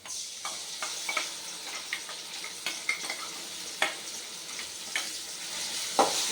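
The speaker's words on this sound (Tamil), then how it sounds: "இப்போ நம்ம அரைச்சி வச்ச மசாலா சேர்த்துக்கலாம்" Ground masala paste sizzling as it goes into a pan with garlic already fried golden, giving a steady close frying hiss with scattered sharp crackles and pops and no voices.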